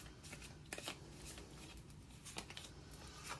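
Tarot cards being shuffled by hand, a soft steady riffling rustle with a few sharper flicks and snaps, close and quiet, no voices.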